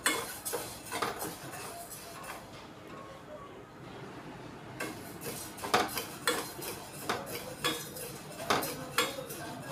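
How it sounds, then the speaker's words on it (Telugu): Dry moong dal being roasted and stirred in a pan, with repeated scraping and clinking of a utensil against metal, a quieter pause midway, then renewed irregular stirring knocks close by. "ఇవి బ్రౌన్ కలర్ వచ్చినంత వరకు వేయించుకోవాలి"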